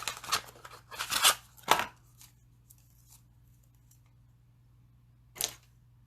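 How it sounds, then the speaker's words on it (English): Ribbon scissors snip through ribbon at close range in a quiet room, a few quick crisp cuts bunched at the start and one more after a pause, over a low steady hum. "let me get my ribbon scissors, which I don't have right off handy, so I'm going to cut that"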